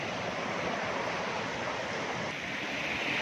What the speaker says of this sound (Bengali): প্রচণ্ড ঠান্ডা জল জলটা খেলাম দেখুন জল আসছে কীরকমভাবে